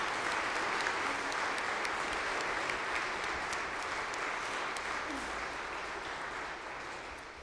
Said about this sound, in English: Can we get a round of applause for our Sunday school class?